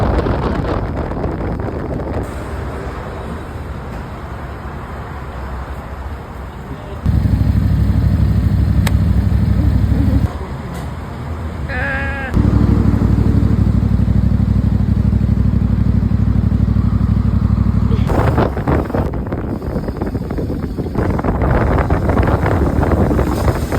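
A motorcycle ridden toward Genting, its engine droning steadily with strong wind rush over the microphone, the level stepping up and down as the ride goes on, with no talk.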